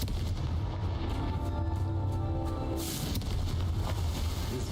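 A Confringo fire-spell blast goes off in a Hogwarts video game, a single booming burst over a constant low rumble of background game sound.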